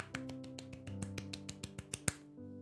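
Soft golf-style clapping, a string of quiet, evenly spaced claps heard alone over a low musical backdrop in a Mini Motorways stream.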